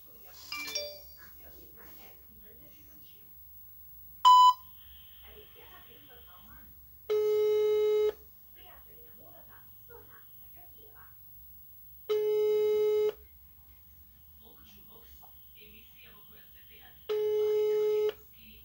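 A telephone rings in three evenly spaced tones about five seconds apart. Each ring is steady and clear over a quiet, faintly humming room.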